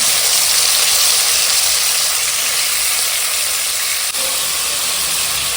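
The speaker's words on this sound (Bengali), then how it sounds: "তেল গরম হয়ে গেছে টমেটো দিয়ে দিল" Tomatoes sizzle in hot oil in a pan for a chutney, producing a loud, even, close hiss that holds steady throughout with no voices.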